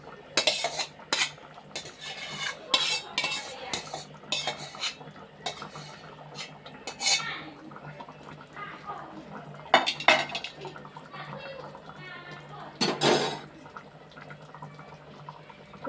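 A metal ladle stirs mango fish curry in a pot, giving close, sharp scrapes and clinks against the pot in irregular bursts over a soft simmering bubble, with no talk.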